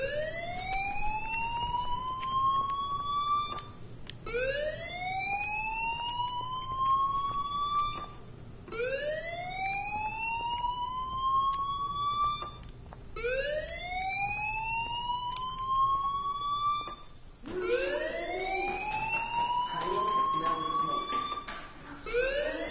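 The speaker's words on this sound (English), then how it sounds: "Hey, do you hear that fire alarm?" A school fire alarm in the Life is Strange video game sounds as repeated rising electronic whoops, about five in a row, loud and steady with a busier background toward the end.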